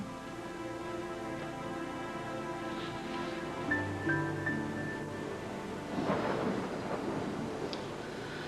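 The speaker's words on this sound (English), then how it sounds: "The wind's picking up. Jasmine Island was always known for its fierce storms." Wind blows steadily through a stormy island scene in a 1999 soap opera, with low rumbling surges like distant thunder rising midway and again toward the end, beneath a faint musical drone.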